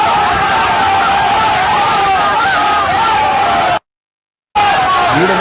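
A large, agitated street crowd surrounding Abhishek Banerjee yells and shouts in a dense, loud babble, broken by a brief cut to silence before the shouting resumes.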